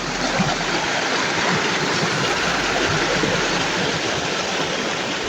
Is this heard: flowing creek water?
yes